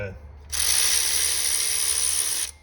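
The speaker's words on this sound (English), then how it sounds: "So now we can go ahead and get our upper idler pulley and fan hub drive pulley removed." A ratchet spins out a bolt on the upper idler or fan hub drive pulley of a 6.7 Cummins engine, a single continuous rapid clicking burst about two seconds long, close and fairly loud.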